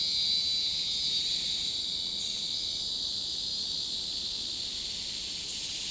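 Cicadas buzzing in the forest at MacRitchie Reservoir, a continuous, dense high-pitched drone that stays loud and steady, fading slightly toward the end, with no voices.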